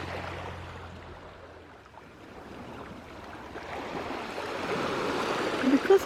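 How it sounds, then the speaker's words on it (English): Water washing against rocks at Caspersen Beach in Venice, Florida, as a steady rushing surf wash that swells gradually louder toward the end, broad and continuous, with a faint breezy background. "Because of the rocks and the water hitting the rocks, it's a little noisier here"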